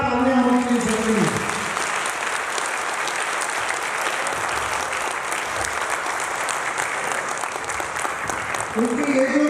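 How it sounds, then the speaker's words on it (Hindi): A seminar audience at a blockchain business event in Raipur, India, breaks into loud, sustained applause lasting several seconds, with a voice briefly heard at the start and end. "बहुत जबरदस्त जोरदार तालियां होनी चाहिए"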